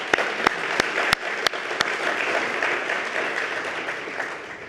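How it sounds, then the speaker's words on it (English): A gala audience applauds, a dense steady wash of clapping filling the room, with a few sharp, louder claps standing out near the start before the applause slowly thins. "You can applaud."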